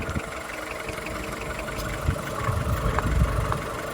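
A Skoda Fabia car engine idles steadily with a low, rumbling drone, a few faint knocks and clicks rising briefly over the hum.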